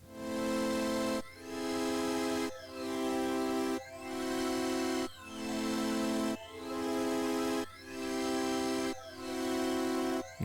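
Synthesizer part from a Serum preset run through a phaser, a sustained chordal tone repeating in even pulses about every 1.3 seconds with sweeping, swirling texture, steady and moderately loud with no talking.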